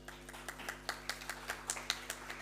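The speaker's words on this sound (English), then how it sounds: "round of applause for that" Scattered clapping from a small audience at a bioluminescence symposium, a handful of distinct faint claps spaced irregularly over a low steady hum.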